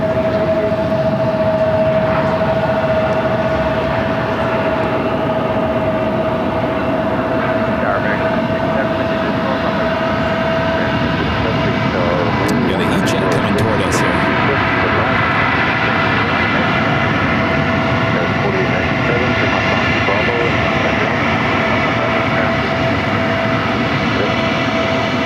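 A CRJ regional jet landing at Phoenix airport after a flight from Burbank gives off a loud, continuous broadband engine roar that holds steady throughout, with a faint tonal whine running under it.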